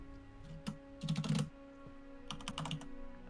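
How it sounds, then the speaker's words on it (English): Angry, rapid typing on a computer keyboard, heard in uneven bursts of clattering keystrokes with short pauses between them, close and fairly quiet over a low background hum, with no one talking. "I couldn't hear you because of angry typing."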